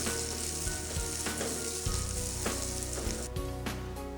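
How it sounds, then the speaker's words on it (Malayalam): Cashew nuts fry in hot butter in a pan, giving a loud, steady sizzle with a few clinks and stirring sounds, close up and without talk. "ബട്ടർ ഒന്ന് ചൂടാകുമ്പോഴേക്ക് കുറച്ച് കാഷ്നട്ട് ഇതിലേക്ക് ഇട്ട് കൊടുത്ത് ഒന്ന് ഫ്രൈ ചെയ്തെടുക്കാം"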